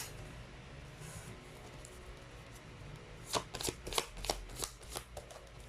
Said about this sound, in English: So let's actually pull up a Chinese fortune cards.